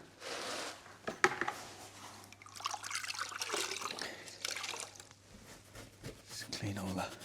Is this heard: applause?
no